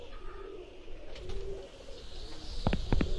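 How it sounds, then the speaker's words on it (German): Pigeons coo softly in the adventure video game Randal's Monday, their low murmurs sitting over a steady ambient background, followed by a few sharp clicking taps near the end. "Diese Tauben sehen hungrig aus und sie sehen mich so komisch an."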